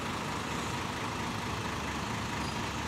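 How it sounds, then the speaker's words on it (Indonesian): Scania double decker bus rolling into a bus terminal, a steady broad engine rumble with low idling drone and road noise throughout, no talk. "Masuk bus double decker Scania."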